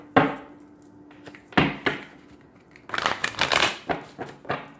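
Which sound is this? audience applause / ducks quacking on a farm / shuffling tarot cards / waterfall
shuffling tarot cards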